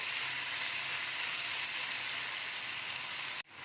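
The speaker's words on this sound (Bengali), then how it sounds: "ভালো করে কষে নিয়েছি মশলাটাকে, আলুটাকে" Spices and potatoes cook slowly in a pan over a low flame, giving an even, gentle sizzle close by that cuts off sharply near the end, and no one speaks.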